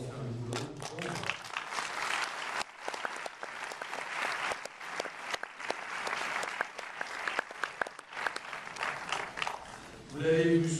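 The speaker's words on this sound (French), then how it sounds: "il faut vraiment les applaudir et les remercier car elles ont fait un boulot" Applause at the opening of a Paris fantastic film festival, a sustained wash of clapping heard fairly faintly, with a voice speaking at the start and again at the end.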